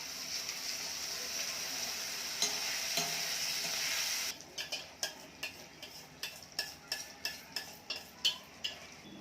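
Onion and tomatoes fry with spices in a pan, a broad steady sizzle giving way to a series of rhythmic scraping stirs with a spoon in the second half, close and fairly loud.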